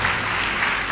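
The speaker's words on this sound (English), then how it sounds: "Clap them" Audience applause at a professional development institute session, a dense steady wash of many hands clapping together, loud and continuous throughout with no pauses.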